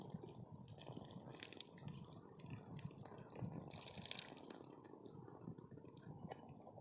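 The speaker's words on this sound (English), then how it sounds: "I will drain out the water" Water pours and drips steadily from a pot of boiled potatoes being drained outdoors on a camp stove during a bicycle tour, a continuous close trickle and splash with no talking.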